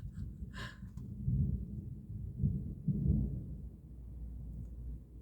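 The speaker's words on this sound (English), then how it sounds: "I'm just hearing thunder's coming." Distant thunder rumbles low and steady, swelling in a few broad rolls over several seconds with no talk over it.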